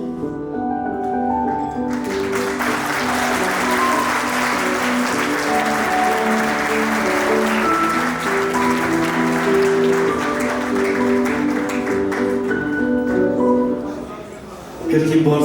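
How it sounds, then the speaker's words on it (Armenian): Loud, sustained audience applause for the parents at a family celebration, dense clapping running nearly the whole time with voices and music underneath. "Կրկին բարձր ծափերը ծնողներին"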